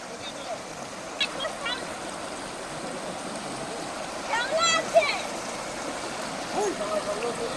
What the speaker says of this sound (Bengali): জল বইছে খলখল করে